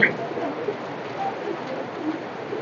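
Soft cooing of a Pakistani Teddy pigeon murmurs in the background, low and intermittent, with a person talking nearby over it.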